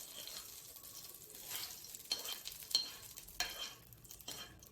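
Mint leaves frying and being stirred in a pan for South Indian tomato chutney, a soft, steady sizzle with scraping stir strokes, fairly quiet and close, no talking.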